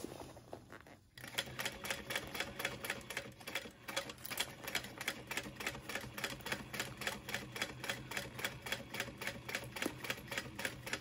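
Sewing machine stitching a zipper panel on a handbag, a fast, even mechanical chatter of needle strokes that runs steadily after a brief pause at the start, close and clear.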